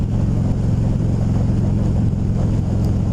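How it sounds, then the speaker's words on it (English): A 2016 Harley-Davidson Dyna Low Rider FXDL with its 103 engine under way, a loud steady low-pitched engine drone with rumbling exhaust pulses and wind noise throughout, no talk heard. "The 103 engine, a lot bigger than my 1200."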